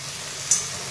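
Tomatoes hitting a pan of fried garlic and chilies give a low, steady sizzle with a short sharper hiss partway through, no voices.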